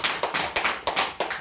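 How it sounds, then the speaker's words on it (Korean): A church congregation claps hands together in a quick, even rhythm, with about seven sharp, clear claps in a row and no talking over them. "우리 너무너무 수고했으니까 박수 한번 칠까요?"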